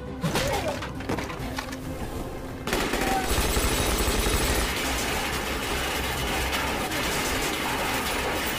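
Gunfire erupts in a Korean heist drama scene as a woman shoots an attacker, with rapid dense bursts and crashing impacts after a quieter opening, loud and continuous under a busy soundtrack.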